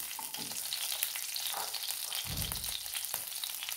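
Green chillies sizzle in a spoonful of ghee in a pan at the start of cooking khichdi, with a steady bright crackle and occasional stirring scrapes.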